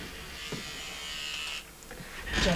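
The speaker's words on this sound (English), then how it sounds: "So I'm using my stitch eraser." Stitch eraser buzzing steadily as it shaves away machine embroidery stitches, a close electric whirr that dips briefly in pitch and level, then rises again toward the end.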